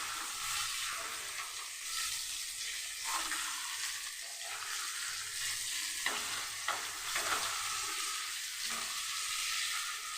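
Pieces of hilsa fish fry lightly in a pan, with a continuous loud sizzle and crackle and repeated stirring or turning noises over about ten seconds.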